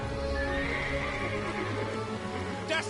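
A giant horse in the video game Final Fantasy 16 lets out a loud, drawn-out neigh over hoofbeat clip-clops and steady background game music, ending with a brief sharp burst.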